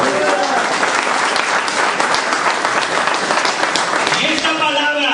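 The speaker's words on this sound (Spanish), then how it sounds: "Dale un aplauso a Jesucristo" Loud, sustained applause from a large church congregation, dense clapping throughout with voices mixed in near the end.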